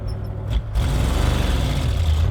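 A 1960 Chevrolet El Camino engine, revived after sitting unrun since 1998, fires up after a short hush and settles into a steady, loud, close running drone, parked on a hill with a highway behind.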